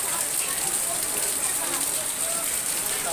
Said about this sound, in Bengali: এখানেও চারিদিক থেকে ফুটো ফাটা দিয়ে জল পড়ছে, দেখুন জল পড়ছে।